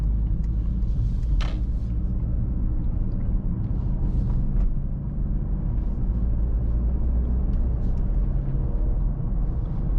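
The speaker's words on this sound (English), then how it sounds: "So now driving here in the city, we can test how the comfort mode actually behaves." A 2024 Mercedes-AMG GLC 63 S hybrid driving through the city at night, a steady low cabin rumble of road and drivetrain noise, constant and fairly loud.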